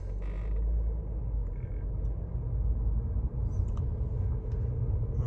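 Low, steady rumble from a Mercedes C350 with an ABS fault, faulty right front wheel speed sensor, driven slowly; engine and road noise stay even throughout, with faint creaks and no talk.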